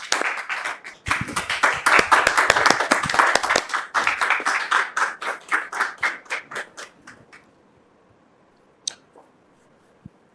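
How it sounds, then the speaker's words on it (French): An audience welcoming a guest onto a stage breaks into dense, close applause that gradually thins into scattered individual claps and dies out after several seconds, leaving near silence with a couple of stray taps. "nous le recevons sous vos applaudissements"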